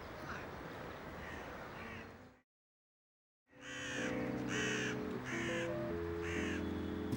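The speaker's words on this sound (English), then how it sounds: "The botanical gardens in Paris attract several dozen crows because it's a good place for a free picnic" Several crows caw in the Paris botanical gardens, rhythmic repeated calls from a few birds at moderate distance over outdoor ambience, with a brief silent gap between the scenes.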